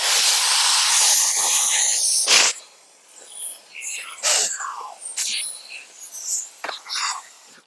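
A garment steamer hisses as it blows steam beneath window tint film. Loud, continuous hissing fills the first couple of seconds, followed by shorter, quieter bursts and sputters with gaps between them.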